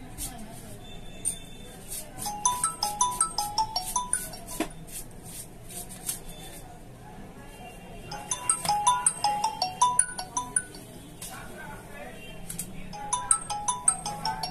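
A Redmi Note 9 Pro phone plays a series of ringtone melodies, in short bursts of tones with brief gaps between them, at moderate loudness and heard without other sound over them.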